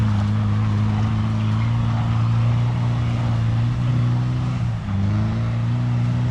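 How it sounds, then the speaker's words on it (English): A Land Rover Defender engine held at full revs while off-roading in woodland gives a loud, deep, steady drone. It dips briefly near the end, then recovers, and no one talks. "Let's give it full revs."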